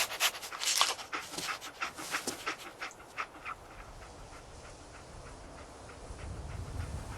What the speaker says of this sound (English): Dog meat. Get the scent, boy.